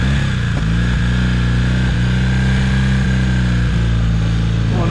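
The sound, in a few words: 1982 Honda CM450 café racer motorcycle riding by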